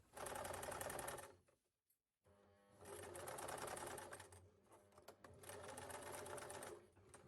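A sewing machine top-stitches an Easter gift bag in two bursts of rapid, steady needle chatter and motor whir separated by a brief pause, close and clear without speech.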